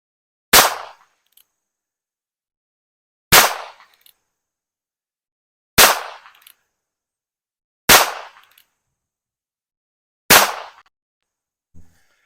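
A Colt Peacemaker .22 single-action revolver fires 36-grain Federal bulk-pack rounds at 10 yards: five sharp, loud reports spaced evenly about two and a half seconds apart, each with a short ringing tail, then a faint click at the end.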